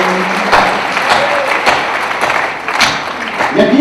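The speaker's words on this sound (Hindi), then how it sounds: "इसलिए आपने तालियां बजाई।" An audience at a Hindi poetry recital (kavi sammelan) in Indore claps loudly and continuously, a dense burst of applause filling the whole stretch with no speech over it.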